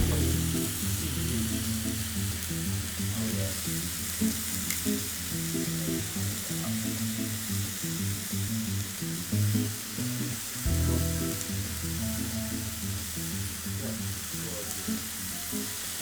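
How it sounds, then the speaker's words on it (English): Tofu with mushrooms and other vegetables sizzles steadily in a hot pan, a constant close frying hiss broken by a few soft knocks of stirring or shifting food. "we're just going to let that cook for another minute"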